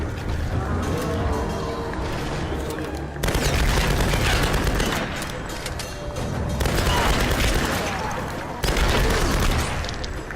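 Gunfire mowing down enemies in Tomb Raider, dense loud bursts of automatic weapon fire in repeated waves with booming impacts, close and continuous, voices faint beneath.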